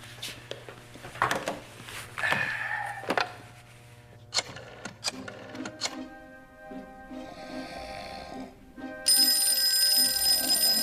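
A telephone rings on an outgoing call, a repeated buzzing purr in an interior room, preceded by a handset being picked up and dialed, with clicks and a louder tone at the end.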